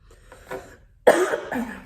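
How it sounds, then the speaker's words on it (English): A single harsh cough bursts out loudly after a soft, muffled stretch, followed by a rougher trailing cough or throat sound. "I was not coughing like this before."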